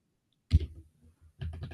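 Typing on a computer keyboard: one sharp key click, a few faint taps, then a quick cluster of several keystrokes, close and clear with no voices.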